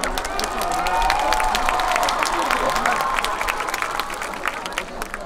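Large crowd at a university festival concert applauds and cheers, a dense wash of clapping with scattered shouts that holds steady, then thins slightly toward the end.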